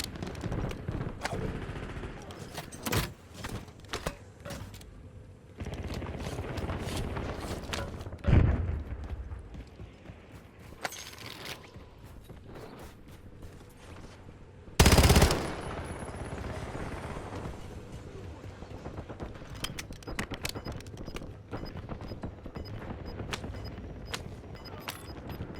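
Video game gunfire crackles in short bursts and scattered single shots, with a few louder, sharper reports standing out, under faint background game sounds and voices.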